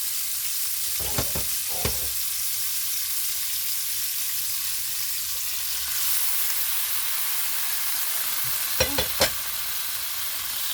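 Cooked mung beans added to a hot pan and sautéed for Filipino ginisang monggo, with shrimp already in it: a loud, continuous sizzle and hiss with a few brief stirring knocks.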